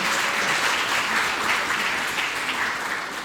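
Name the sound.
concert audience applause for factory workers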